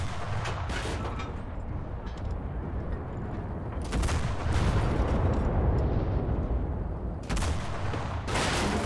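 Gunfire and explosions from a tank battle in the video game Enlisted boom and crack steadily and loudly throughout, with heavier blasts rumbling near the middle and end.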